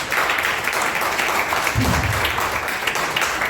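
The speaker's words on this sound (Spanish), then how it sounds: "Dale fuerte aplauso al Señor por su amor y misericordia" Audience applause during a Spanish-language church service, a dense, steady wash of clapping across the whole stretch with a murmur of voices mixed in.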